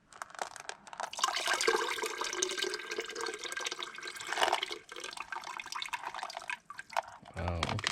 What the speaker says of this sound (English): Let's give these a little sieve.